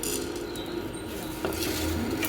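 Fennel, coriander, cumin, dried chillies and black pepper dry-roasting in a pan give a steady gritty rustle and scrape, with occasional light clinks of the utensil, close and continuous with no voices.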